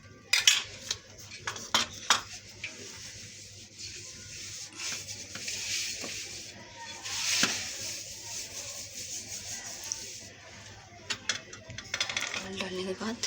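Oil spread around inside a pizza tray, giving close, continuous rubbing and scraping against metal with a few sharp clinks, and faint voices under it in places.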